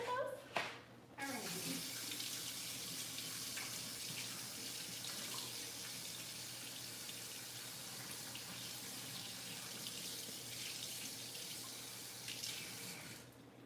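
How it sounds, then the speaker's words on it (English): Tap water runs steadily into a kitchen sink while peppers are rinsed under it, a soft continuous splashing hiss after a brief clatter at the start. "So give me a second so I can rinse my little peppers."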